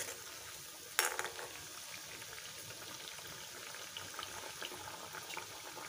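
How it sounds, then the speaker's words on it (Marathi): Methi muthiya dumplings deep-frying in hot oil, giving a steady, quiet bubbling sizzle throughout with one brief sharper clatter near the start. "अजून थोडा वेळ तळायला पाहिजे खरपूस."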